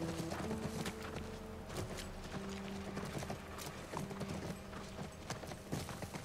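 Horse hooves clip-clop steadily in a rhythmic gait while the animal is ridden in The Last of Us Remake on PS5, close and continuous over a low tonal background.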